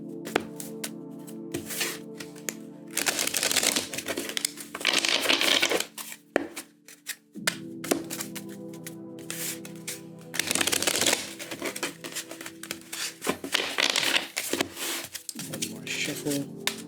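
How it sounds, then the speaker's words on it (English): Tarot cards are riffled and bridged in several bursts, crisp flapping ruffles separated by short pauses, close and clear with a little talk between. "we are going to do 3 shuffles"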